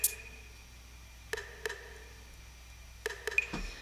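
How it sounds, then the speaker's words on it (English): Percussion programmed with the Satala drum plugin for a cover, a few sparse, quiet clicky hits: a pair early on, then a quick cluster near the end, with near silence between. "So here's what the percussion part sounds like."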